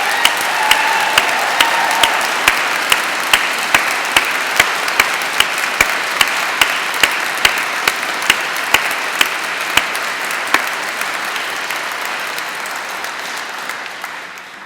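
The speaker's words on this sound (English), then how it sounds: "Can we give all those staff," A large crowd at a university degree ceremony in Exeter gives a sustained round of applause, dense continuous clapping from many hands that fills the hall and slowly tapers off toward the end.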